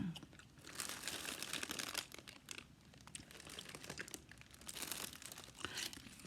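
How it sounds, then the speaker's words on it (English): Cellophane wrapped around Valentine treats crinkles and crunches in soft, irregular bursts, close and quiet, with no talking. "they also wrap their goodies in cellophane. Now I'm doubly addicted to the sound of cellophane."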